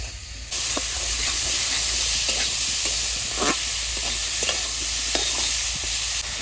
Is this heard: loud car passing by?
no